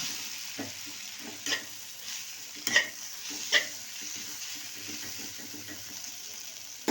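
Chapathi pieces are stirred and mixed in a pan, giving quiet scrapes and a few sharper clinks of a spoon over a soft, low sizzle.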